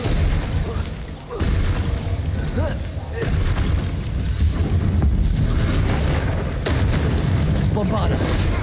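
Bombarda and Confringo spell explosions in Hogwarts Legacy combat, heavy booming blasts rolling one into another under constant game noise, with a voice speaking over the action.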